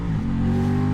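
An Aprilia RS660 motorcycle pulling away on a road, its engine note rising in pitch as it accelerates, loud and close, in a single brief surge.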